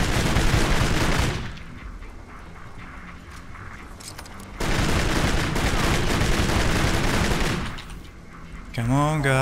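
Heavy gunfire in the video game Kane & Lynch: Dead Men, with sustained loud bursts of automatic fire that fade to a lull and then return, ending with a short tonal game sound.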